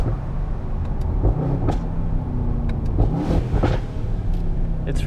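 A Mercedes-AMG S63 Cabriolet engine gives a deep, rumbling idle and burble with a few sharp crackles and pops rising through it, close and fairly loud, with no talk.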